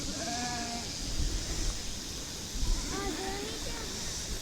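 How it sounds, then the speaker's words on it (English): Sheep and lambs in a grassy field bleat a few times at a moderate distance, short wavering calls rising over a low steady hiss of wind and outdoor background. "These little lambs and sheep here stop right to start munching on that ragweed."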